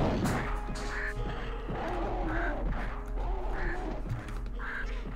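A crow in Tomb Raider II caws repeatedly, four evenly spaced calls over a dense rumbling game soundscape with scattered thuds, fairly loud and with no speech.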